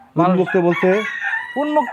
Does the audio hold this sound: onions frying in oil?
no